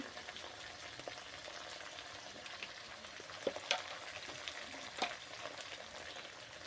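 Ground turmeric and coriander fry quietly in oil, a soft steady hiss close by, broken by a few faint taps of a spoon against the pan.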